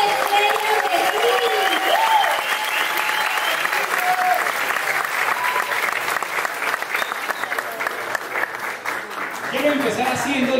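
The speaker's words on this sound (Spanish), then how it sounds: "ayúdenme a dar un fuerte voto de aplausos" An audience applauds loudly and steadily throughout, a dense continuous clapping with crowd noise, welcoming a speaker at a business motivational event.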